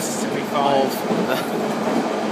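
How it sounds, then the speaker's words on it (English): A loud London Underground train rumbles and rattles along the tracks, with a steady roar, metallic clatter and faint voices underneath. "it's quite a noisy train"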